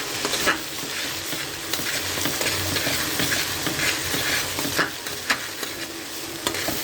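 Ginger and garlic paste frying in hot oil, a steady broadband sizzle with stirring scrapes and occasional clicks of a spoon against the pan, close and continuous with no voices.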